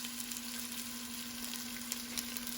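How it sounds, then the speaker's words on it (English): Half a large onion frying in a pan of oil for an aloo matar pulao, a steady soft sizzle with faint crackles throughout, no talking. "this is going to fry"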